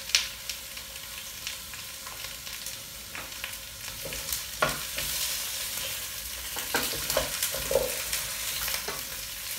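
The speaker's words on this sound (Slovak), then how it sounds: "Jemne opečieme" Vegetables for a homemade vegetable broth gently frying in a pot, a soft continuous sizzle broken by scraping stirs and clacks of the utensil throughout.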